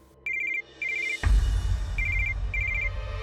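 A landline telephone rings close by with rapid trilling bursts, broken by a sudden heavy low thump and rumble partway through as the ringing carries on.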